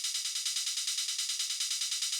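A closed hi-hat loop in a trance production, playing even, bright 16th-note ticks with slightly varied velocity, washed with delay and reverb, steady and fairly quiet, alone.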